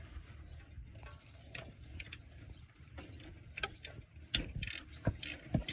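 Ratchet socket wrench cranking a nut loose in a DIY repair, quiet irregular mechanical clicks and scrapes with a few sharper ratcheting bursts toward the end, close by.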